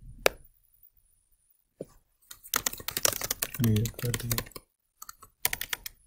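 Bursts of typing on a computer keyboard, rapid clicking keystrokes in clusters separated by pauses, while a person speaks briefly over part of it.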